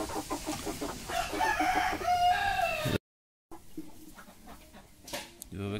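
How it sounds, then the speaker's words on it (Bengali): Hill chickens and roosters on a poultry farm, with clucking and a rooster crowing up close, followed by a short silence and then more scattered clucks and rustling, with a voice speaking faintly at times. "মোরগগুলো"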